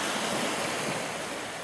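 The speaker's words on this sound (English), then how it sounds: "just a relaxing winter evening. Just watching the waves roll in." Ocean waves roll in to shore over an offshore sandbar on a winter evening, a steady broad wash of surf with some wind noise and no voices.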